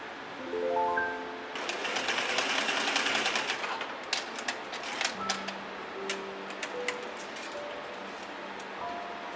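A sewing machine top stitches the fronts of a linen 1890s-style waistcoat, running in a quick burst of rapid needle clicks, then settling into scattered lighter ticks and pauses, fairly close and alone.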